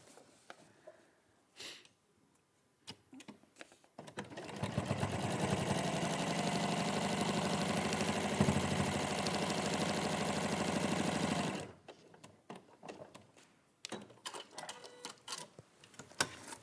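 A sewing machine stitching patchwork runs in one steady, loud whirring burst of about eight seconds, framed by quieter handling clicks and rustles before and after.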